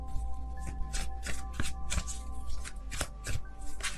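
Tarot cards are shuffled by hand in a quiet room, a quick run of crisp riffling flicks and soft slaps repeating in a close, busy rhythm with no talking.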